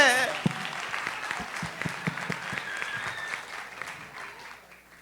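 An audience claps together in a burst of applause that gradually fades, with a voice heard at the start.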